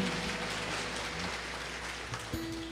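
Congregation applauding in a church service, a steady dense wash of clapping throughout with a faint low hum beneath and a brief tonal note near the end.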